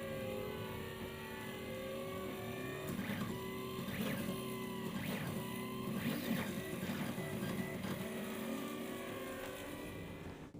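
A 3D printer slowly printing a lightweight aircraft fuselage part, its stepper motors whining in repeated rising and falling tones with a steady mechanical hum underneath, moderately quiet and continuous with no talking.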